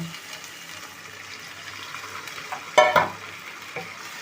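Katla fish cooking in a yogurt spice masala in a pan, with a steady soft sizzle, a stirring clatter near the end, and brief louder scrapes and splashes against the ongoing frying.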